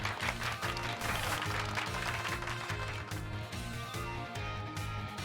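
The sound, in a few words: applause in the video game Pokémon Scarlet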